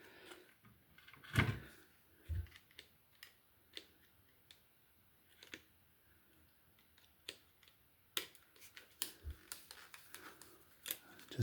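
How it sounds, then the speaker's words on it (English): Small screws are worked out of a radio circuit board, with sparse faint clicks, scrapes and taps of a screwdriver and metal parts against a quiet background, one sharper clatter near the start. "Again, I can take off these screws."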